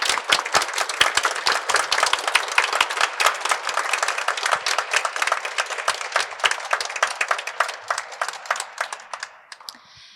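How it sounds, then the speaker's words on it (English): An audience applauds at a gallery exhibition event, dense sharp hand claps that stay strong throughout and thin out at the very end, with no talk. "I'd like to invite everyone to give the two of them a round of applause"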